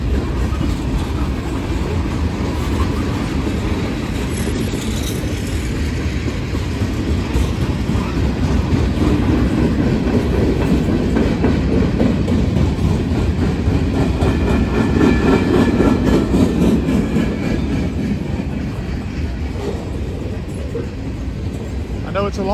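A long mixed manifest freight train rolls past close by, a loud continuous rumble with rhythmic clickety-clack of wheels over rail joints, while a person talks over it.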